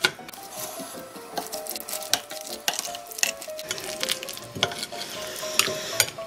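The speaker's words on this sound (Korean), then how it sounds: "양념을 풀어주세요." Seasoning sauce with sesame salt and minced scallion being stirred and mixed in a bowl, giving steady close scraping and clinking strokes with no voices.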